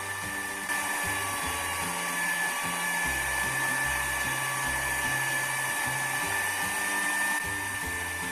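Electric hand mixer beating egg yolk into marble steamed sponge cake batter, a steady whirring motor drone that runs continuously and fairly loud, with a faint bowl-scraping rattle underneath and no talking.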